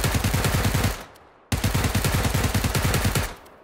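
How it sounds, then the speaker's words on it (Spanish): Two bursts of rapid automatic gunfire in PUBG on PS4, loud and close, separated by a brief pause, with game-like sharp repeated shots. "Lo veo. Disparo."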